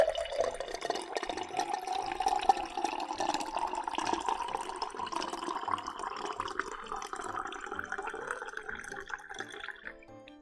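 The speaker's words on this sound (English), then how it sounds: "maybe I should pour myself water instead of drinking the Coca-Cola" Water poured steadily into a glass, a continuous splashing trickle whose tone rises gradually as the glass fills, close and fairly quiet, tapering off at the end.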